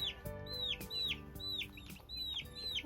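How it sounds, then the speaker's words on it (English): A broody hen in a homestead dirt bath gives soft, repeated clucks at a steady pace, each a brief, rising call. The clucks are close, over a quiet backdrop. "I guess Smokey's gonna be broody inside the dirt bath"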